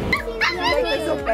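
A puppy at a dog shelter gives short high yips and whimpers in quick succession, close by and fairly loud.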